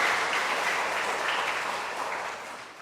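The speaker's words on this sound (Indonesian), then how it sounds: "Kita beri tepuk tangan untuk mereka semua" Audience applause for a church choir with organist and conductor at a Christmas Eve Mass, a steady wash of many hands clapping throughout that fades slightly toward the end.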